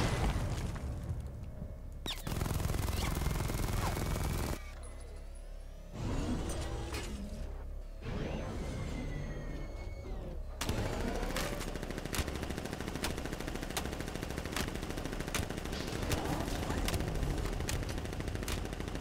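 The Batmobile's cannon fires in the video game Batman: Arkham Knight, with loud booming blasts in separate bursts, then a long stretch of rapid, evenly spaced shots.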